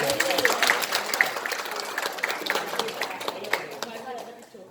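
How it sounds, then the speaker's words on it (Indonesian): An audience at a school or education session applauds, with dense clapping from many hands, loud at first and then thinning and fading toward the end, and a few voices mixed in among the crowd. "Tepuk tangan untuk Bapak Ibu."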